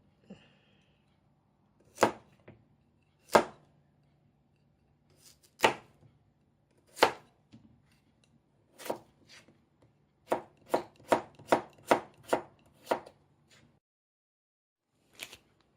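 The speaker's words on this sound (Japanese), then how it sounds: "だいたいきゅうりと大根を同じように短冊切りにしました" A knife chops cucumber and daikon into thin strips about 2–3 mm thick. Crisp, close strikes sound on a board, spaced out at first, then a quick rhythmic run of cuts, with no voices.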